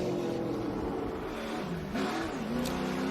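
SRX race cars roar around the Five Flags Speedway oval, a dense continuous engine howl with rising and falling pitch as cars accelerate and pass, loud and steady with no talk.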